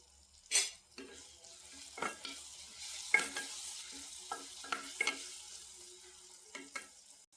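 Onions being sautéed with spices in a pan for macaroni, with soft frying sizzle under scattered close stirring scrapes and clinks of a spoon against the pan.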